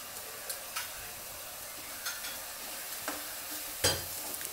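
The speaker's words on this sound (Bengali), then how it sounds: "আর এখন এইভাবে এখানে মশলা কষানো হচ্ছে।" Spices are stirred and fried in a pan for a Sylheti shol (snakehead) fish curry, with a soft continuous sizzle broken by occasional scraping strokes of the spoon.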